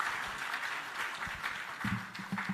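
Brief applause from a forum audience at a regional development conference, a steady patter of clapping with a low voice murmuring underneath.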